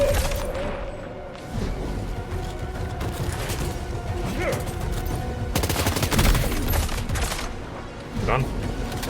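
Rifle fire in the video game Death Stranding 2, heard as bursts of shots mixed with game sound effects and a busy background, with a person talking over part of it.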